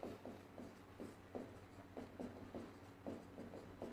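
Pen strokes scratching a note on paper, close and quiet, a steady rhythm of short scrapes about every quarter second against light room noise.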